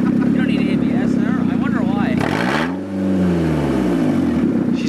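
Engine of a small repaired car revving as it drives off, a loud continuous drone with pitch sweeps rising and falling, shouting and talk over it early, then a dip and a fresh surge of revs.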